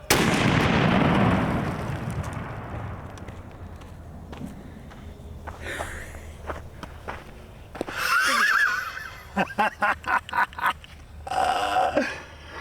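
A single powerful gunshot from a 3D printed 50 BMG rifle with a Raptor 50 upper and printed lower, a loud close blast that decays over about two seconds, followed by scattered clicks, rustling and footsteps outdoors.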